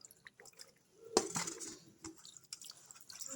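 A freshly caught pond fish is washed by hand in water, producing faint close splashes, drips and wet squishing in short irregular bursts with one louder splash, with no talking over it.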